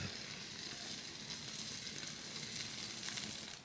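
Whipped cream sprayed from a can onto a pumpkin spiced mocha, a steady close hissing spray lasting a few seconds before it tails off.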